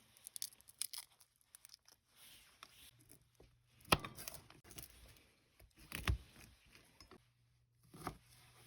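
A knife dices potatoes on a cutting board in a quiet kitchen, a handful of irregular, sharp chops with short pauses between them.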